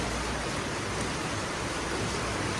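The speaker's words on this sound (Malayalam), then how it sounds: "പുറത്ത് മഴ തകർത്ത് പെയ്തോണ്ടിരിക്കുകയാണല്ലോ" Heavy rain pours outside in a steady, unbroken hiss, loud and constant with no voices over it.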